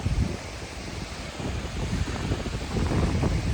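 Roaring waterfall in Iceland, a steady, dense broadband rush of falling water that swells slightly louder toward the end, with no voices.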